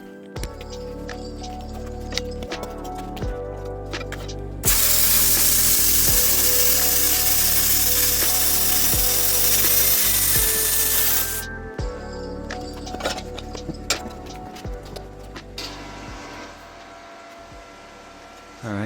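An ARCCAPTAIN CUT55 Prolux plasma cutter slices quarter-inch steel plate, a loud, steady roaring hiss lasting about seven seconds, with clanks and handling noises before and after.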